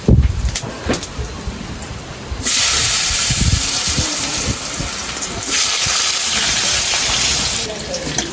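Potatoes fry in hot oil with whole garam masala for a Bengali catfish curry, giving a loud, steady sizzling hiss that keeps going after a few opening clatters of the pan.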